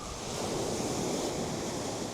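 Steady rush of ocean surf washing onto a beach, continuous and fairly close, with a breezy wind noise over the microphone.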